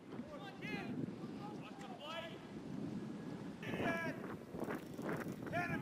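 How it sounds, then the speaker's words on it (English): Gusty wind buffets the microphone outdoors at a college football game between Indiana and Ohio State, a steady roar running beneath commentators' talk and crowd noise. "It's windy."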